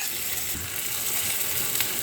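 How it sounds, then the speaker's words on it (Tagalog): Small whole fish frying in a pan of oil, a steady broadband sizzle with faint crackles running without a break, no voices over it. "ngayon ko lang gagawin din yung isda na to. Kung paano iprito."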